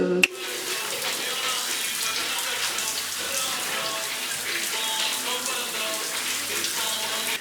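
Shower running at a campsite, a steady spray of water hissing and splattering throughout, starting abruptly after a brief click, with faint voices in the background.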